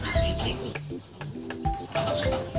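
Low, soft cooing from Bruno, a six-year-old breeding pigeon, repeated in short phrases close by, with some human voice mixed in.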